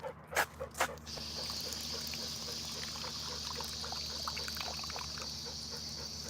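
Water trickles and pours steadily into a dog's bowl for a dog named Miles Davis, a continuous close dribble after a few brief knocks at the start, with faint background hum.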